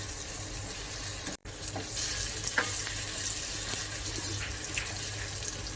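Semolina (rava) roasting in a pan for prasad sheera, a steady dry hiss with faint scraping stir strokes, close and even, briefly cut by a short silent gap near the start.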